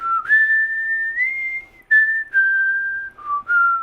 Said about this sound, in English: the main theme is a whistling tune